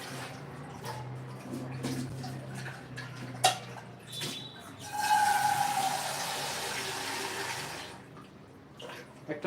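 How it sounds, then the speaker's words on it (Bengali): Water runs into a cooking pot in a home kitchen, a loud, steady gush for about three seconds after some clinking of dishes and utensils, then a quieter close that ends in a clank. "একটা পাত্রে জল দিয়ে নিয়েছি আমি"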